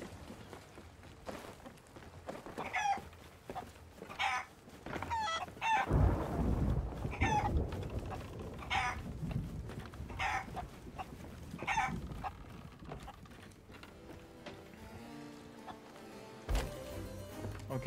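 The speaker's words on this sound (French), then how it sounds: "Quand j'ai une poule dans les bras." Chickens cluck and a rooster crows in the pirate game Sea of Thieves, repeated bursts over a low rumbling game background, fairly close and loud.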